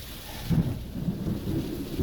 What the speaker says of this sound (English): and watch the rain fall.